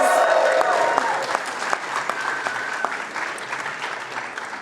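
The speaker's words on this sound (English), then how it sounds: "Can we give that a round of applause?" A crowd at a State Department Pride Month reception claps steadily, a dense sustained applause that fills the room and fades slightly, with a few louder individual claps standing out.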